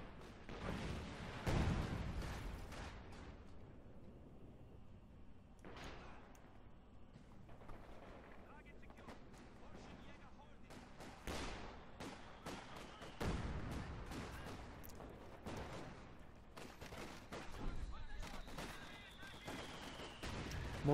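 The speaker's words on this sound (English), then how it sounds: "Mortar's still running in." Mortar blasts and gunfire sound in a Company of Heroes 2 battle. Sharp shots and bursts land in irregular clusters, with deeper thuds from impacts, all fairly quiet and distant in the mix.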